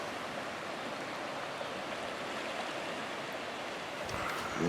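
Deep floodwater after heavy downpour and high winds flows steadily with a broad, even rushing wash, constant and moderately distant, with no voices.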